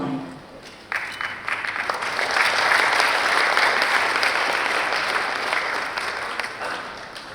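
Audience applause at the Baznas Award 2023 ceremony, greeting the writing of the final verse of a Quran manuscript, swells after a brief pause into steady, dense clapping from a large crowd and holds strong throughout.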